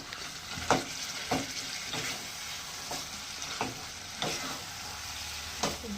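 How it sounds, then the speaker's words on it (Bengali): Spiced mashed potato filling for aloo paratha sautéed in a pan, with a soft continuous sizzle broken by periodic scraping strokes of a spoon, close and fairly quiet. "আলুটা দিয়ে এবার কষিয়ে নেব"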